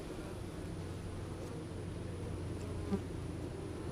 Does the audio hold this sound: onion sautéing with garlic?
no